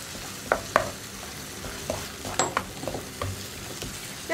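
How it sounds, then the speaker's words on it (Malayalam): Yogurt pepper chicken masala stirred in a pan, with a spatula scraping in irregular strokes over a soft, steady sizzle, close by and with no talking. "ഇനി തൈരൊന്ന് നന്നായിട്ട് കുക്കായി മസാലയുടെ കളറൊന്ന് മാറി വരുന്നത് വരെ ഇളക്കി കൊടുക്കണം"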